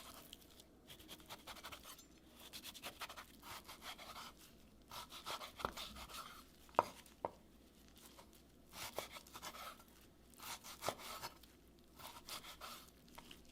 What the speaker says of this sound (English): you're going to start slicing your beef into smaller pieces